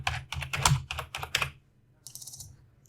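Fingers type on a computer keyboard with a quick run of sharp clustered keystrokes, then a pause and a lighter, rapid patter of clicks, close and alone.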